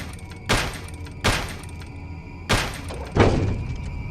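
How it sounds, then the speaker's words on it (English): A heavy iron door is struck and forced with a crowbar in a horror sound effect, giving four loud metallic thuds spaced about a second apart with ringing decay and no talk. "The heavy iron door was violently pried open by the police, using a crowbar after a few massive hits."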